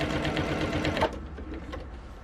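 A sewing machine stitches a decorative pillow case, its steady rapid mechanical whir running loud and close for about a second before dropping to a softer, lighter patter.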